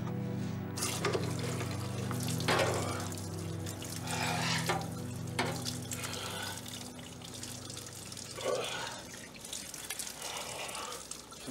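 Cold water runs steadily from a tap, a continuous close splashing hiss with a few brief louder gushes, alone with no talk.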